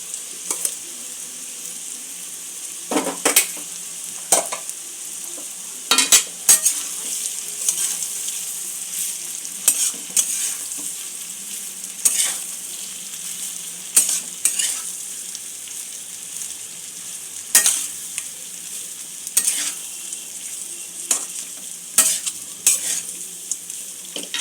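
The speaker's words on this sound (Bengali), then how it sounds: "ভাতটা মিশিয়ে নেব" Cooked rice is stirred together with Bengali-style veg pulao ingredients in a frying pan over very low heat: recurring scrapes and clinks of the spatula against the pan at irregular intervals over a faint sizzle, with no talking.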